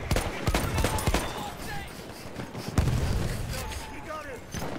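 Battlefield 1 gunfire rattles in several bursts of rapid shots, with sharp isolated cracks and distant booms over a busy battlefield backdrop at moderate level.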